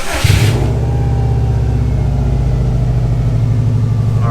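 A 2003 Subaru WRX engine cranks and catches after a DeatschWerks DW200 drop-in fuel pump install, then settles into a loud, steady, close idle with no voices.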